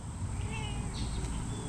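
Pet cat Cleo meows indoors, a close, clear miaow with rising and falling pitch over a steady low background hum, no talking.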